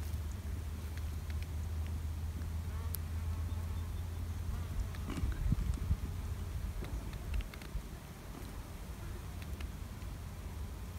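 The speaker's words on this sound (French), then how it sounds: "on a une abeille ici." Bees buzzing among plentiful flowers outdoors: a faint, continuous insect hum over low background rumble, with a few soft rustles and ticks scattered through.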